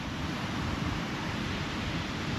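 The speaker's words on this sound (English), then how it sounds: "It's a bit noisy because of waves." Broadband roar of sea surf breaking on a North Wales shore, steady and loud with wind buffeting the microphone, no voices over it.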